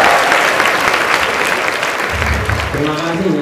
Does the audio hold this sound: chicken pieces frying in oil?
no